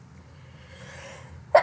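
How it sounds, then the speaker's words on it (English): A single sharp sneeze bursts out at the very end, close and loud, after a stretch of quiet room tone. "I'm going to sneeze."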